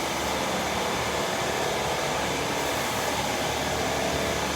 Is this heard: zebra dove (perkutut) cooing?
no